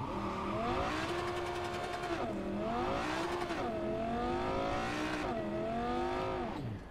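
A loud car engine in Cyberpunk 2077 revs hard, its pitch sweeping up and down in repeated surges, with a steady roaring drone throughout.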